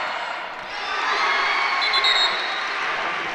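A packed arena crowd cheers and shouts steadily at a boys' basketball tournament championship game, a broad roar swelling slightly midway and holding without letup.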